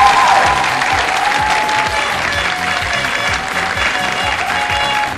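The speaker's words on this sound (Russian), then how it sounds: "Друзья, давайте проводим Алену аплодисменты" Audience at a children's karaoke gala concert giving sustained, dense applause that stays loud and even throughout, with a faint musical tone underneath.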